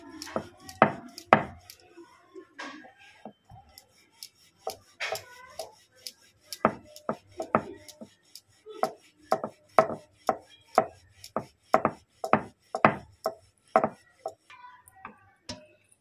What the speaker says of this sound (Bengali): চলুন আমি এটাকে একটা রুটির আকারে বেলে নেব।